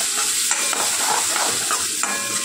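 Tomatoes tossed into a hot pan with oil, a steady loud sizzle and frying hiss with a few stirring scrapes and clatters, close up and without talk.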